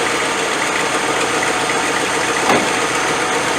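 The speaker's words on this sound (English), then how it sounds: "A couple of pumps of the gas, it got it going." A 1985 ex-NATO Land Rover 110 V8 idles just after being started: a loud, steady rumbling engine idle close by, with a slight uneven knock and a brief swell near the end, and no talking.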